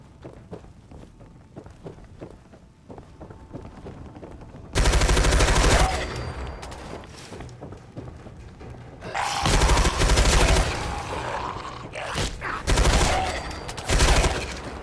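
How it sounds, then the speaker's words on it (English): Bursts of service rifle fire in the video game Fallout 4 come as loud, dense volleys that start and stop abruptly, split by quieter stretches of footsteps and ambient game sound. "A service rifle."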